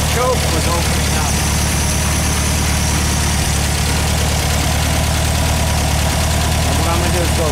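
Volkswagen engine with a Solex 34 PICT-3 carburettor idling as it warms and the choke opens, a loud, close, steady low rumble, with someone talking over it at times.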